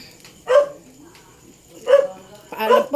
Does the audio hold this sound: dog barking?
yes